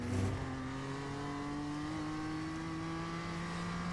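A BMW M2 engine revs hard under acceleration around Oulton Park in iRacing, its tone climbing in a steady, continuous drone, close and alone.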